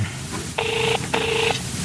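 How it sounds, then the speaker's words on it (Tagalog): A cellphone rings twice with a bright electronic warbling tone, each ring about half a second long with a short gap between, over a faint murmuring background. "nagre-ring ti cellphone na"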